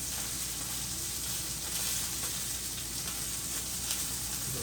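A steak sizzles steadily in a hot pan while cooking for a chimichurri steak sandwich, a constant close crackle and hiss with no voices over it.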